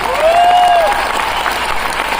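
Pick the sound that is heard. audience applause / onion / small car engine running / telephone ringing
audience applause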